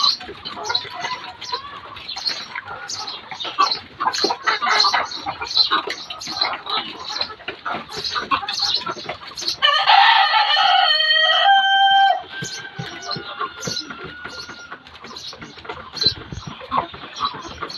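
Egyptian-breed chickens cluck and chatter continuously nearby on a farm, a busy flock sound, with a rooster crowing loudly partway through.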